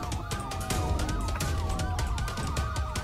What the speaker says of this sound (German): Ich höre halt nur überall Sirenen